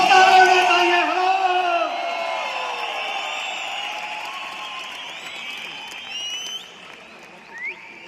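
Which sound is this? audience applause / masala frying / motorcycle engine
audience applause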